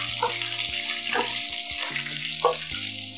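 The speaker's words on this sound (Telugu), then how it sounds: "ఇవన్నీ కలుపుకుంటూ వేయించుకోవాలి" Cumin seeds and green chillies fry in hot oil, a steady broad sizzle with a few soft scrapes of stirring, close and moderately loud; a low mains-like hum sits underneath, with no talking.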